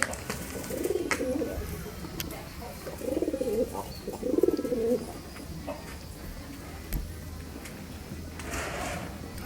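Low, soft cooing from homing pigeons, a few rolling calls close by, over a constant background hiss with an occasional knock.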